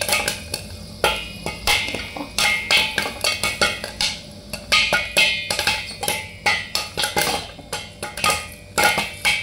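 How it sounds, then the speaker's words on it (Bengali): Popcorn pops in a covered frying pan over a low gas flame, with dense, irregular sharp cracks and ticks that speed up into rapid bursts against the pan and lid, close and fairly loud with no talking. "আর তোমরা পপকর্নের শব্দ নিশ্চয়ই শুনতে পাচ্ছ।"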